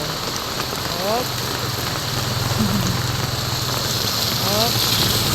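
Heavy rain pours steadily onto a surface, a loud, dense hiss filling the whole stretch, with a low idling engine rumbling underneath.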